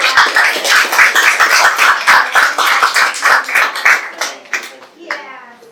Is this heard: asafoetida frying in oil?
no